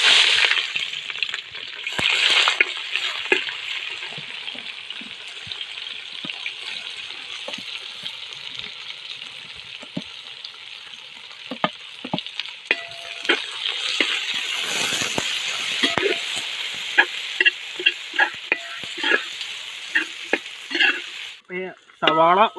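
Onion sizzles steadily in hot sunflower oil for an Ooty-style biryani, with loud, continuous frying crackle and scraping stirring strokes close up, and no talking.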